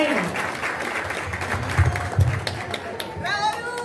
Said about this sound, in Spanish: vamos a darle fuerte el aplauso a Lucía Quintero